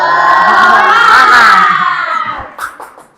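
A classroom of schoolchildren bursts into a loud group spirit cheer, many young voices shouting together in a rising, sustained cry that ends with a few quick claps.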